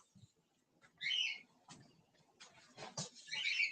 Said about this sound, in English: you might be able to hear mom's birds in the background. They're kind of chattering because this light's on